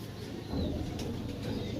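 Pigeons up for sale in Sarai Alamgir, Jhelum, Pakistan, coo softly within a dense, noisy background of low rumble and clatter, the calls faint and blended into the din.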